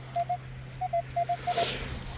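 A metal detector sweeping a field gives a strong signal, four pairs of short, clear electronic beeps at an even pace over a low steady hum, close and fairly quiet.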